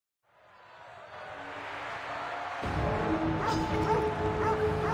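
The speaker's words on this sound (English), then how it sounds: "He's got a puppy!" A puppy in Assassin's Creed Odyssey yipping and whimpering amid a rising game soundscape and crowd murmur, the small barks faint and high under the swelling background.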